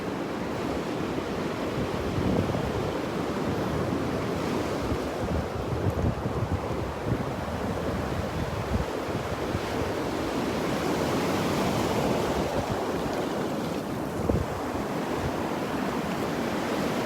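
Steady roar of ocean surf washing onto the beach at Delnor-Wiggins, continuous and broadband with wind buffeting the microphone, no voices.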